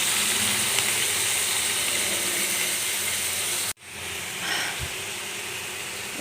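Bitter gourd pieces in a hot pan hiss with a steady, loud, broadband sizzle that cuts out briefly and then resumes slightly softer.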